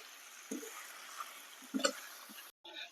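Spice masala sautéing in a pan for a banana-flower dish, a soft steady sizzle with a few scraping stirs and a brief pause near the end.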